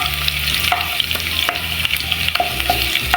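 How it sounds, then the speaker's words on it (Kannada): Crushed garlic and curry leaves spluttering in hot oil over a low flame, a steady close sizzle broken by frequent sharp crackles and pops, with no voices. "ಅದ್ರ ಜೊತೆಗೆ ಕರಿಬೇವು ಹಾಕ್ಕೊಳ್ತಾ ಇದ್ದೀನಿ. ಸಿಡಿಯುತ್ತೆ."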